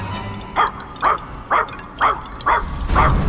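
Robo-Dog, a robotic dog in the video game Puppeteer, lets out six evenly spaced, sharp barks about half a second apart, loud and close over a low background hum.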